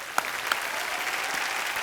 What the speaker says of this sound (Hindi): इसके लिए जोरदार तालियां बनती हैं